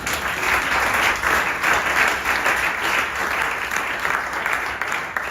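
Church congregation applauding during a sermon, a dense, steady wash of many hands clapping at close range that holds for the whole stretch with no pause.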